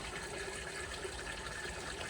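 Water flows steadily through a DIY solar-powered aquaponics setup for strawberries, a quiet, continuous trickling gush without talk.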